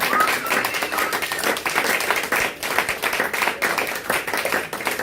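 Dense applause from a church congregation clapping and cheering for Jesus during a French-language service, loud and sustained with crowd voices mixed in.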